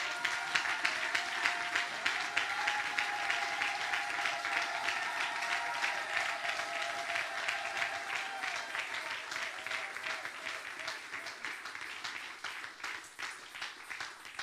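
A church congregation applauds in praise for a pastor's couple, a dense, steady wash of many hands clapping that carries loudly through the whole stretch and eases slightly toward the end.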